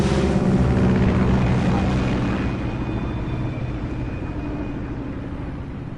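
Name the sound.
aircraft flying in Metal Gear Solid video game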